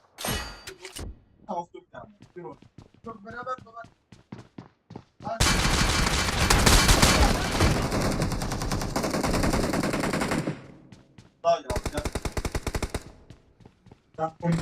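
P90 submachine gun fire in a video game, long sustained bursts of rapid automatic shots, loud and close, with a pause between bursts and someone talking at the start.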